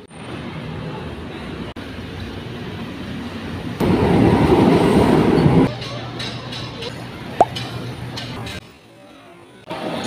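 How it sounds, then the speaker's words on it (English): Steady rumble of a train rolling along the tracks, swelling louder midway, with a background babble of voices and a sharp clack near the end. "I'm now going to use the train to get to Tamsui."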